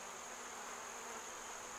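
Field bees hum around a small nucleus box hive in a steady, faint, continuous drone with no voices.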